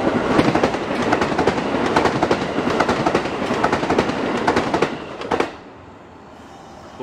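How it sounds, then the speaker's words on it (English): A Japanese bullet train rushes past a station with a loud, dense clatter of rhythmic wheel clicks that cuts off abruptly near the end, leaving quiet background. "bullet train going by there"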